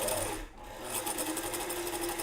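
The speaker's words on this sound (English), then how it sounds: "I'm double hemming this mask" A sewing machine runs steadily as it double-hems a fabric mask, a loud, close, continuous mechanical whir that dips briefly near the start and then resumes without any speech.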